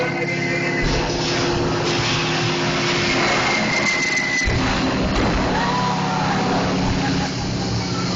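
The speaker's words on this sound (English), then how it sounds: "But then you hear more planes approaching." A droning aircraft engine roars steadily with a rising whine partway through, loud and continuous over a busy background, from simulated approaching bomber planes on the Studio Backlot Tour at Disney's Hollywood Studios.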